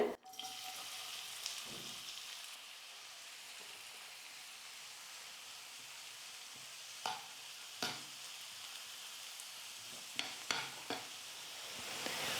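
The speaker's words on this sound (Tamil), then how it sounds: "நல்லா இந்த மாதிரி ப்ரௌன் கலரில் மாற வரைக்கும் நல்லா வதக்கிக்கோங்க." Finely chopped onions are sautéed in hot oil and ghee until brown, giving a faint, steady sizzle with a few scattered spatula scrapes and taps, quiet and alone.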